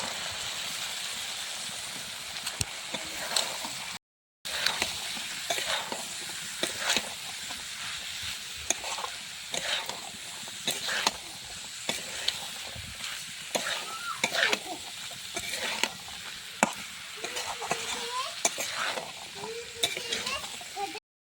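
Ghugni masala with boiled peas and potato is stir-fried in a pan, a steady sizzle beneath repeated scraping and stirring strokes, close up, with no talking.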